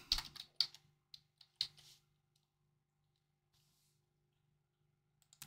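Brief burst of typing on a computer keyboard entering a text prompt into Photoshop, a quick run of close clicks lasting about two seconds, then near silence with a final click.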